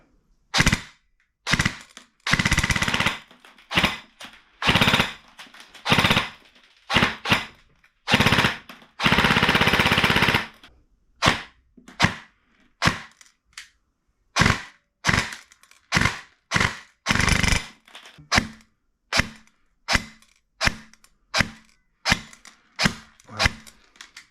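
A KWA airsoft gun fitted with a recoil delete firing, loud sharp clacking shots, mostly single shots at a fairly regular pace with a couple of longer rapid bursts early on, close and without speech.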